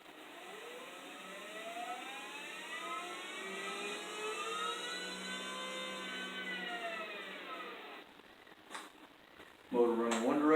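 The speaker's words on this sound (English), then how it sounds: "Motor running one direction" A small electric motor powered by a 10-volt battery whirs steadily with a rising and falling whine, then clicks and cuts out near the end as handling noises follow.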